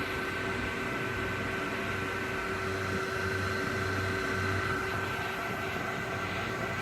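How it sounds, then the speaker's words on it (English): A high-power fan at the back of a desktop computer running, a steady close whir with a constant tonal hum and low rumble, unchanging throughout. "This fan at the back is really high power and probably really doesn't need to be as high power as it is."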